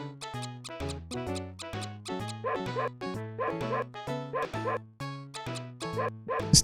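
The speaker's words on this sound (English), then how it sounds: "This dog is going crazy." A dog in the SNES game Nosferatu barks over and over in rapid, evenly spaced chiptune yaps, each bark a short pitched burst, steady and fairly loud from start to finish.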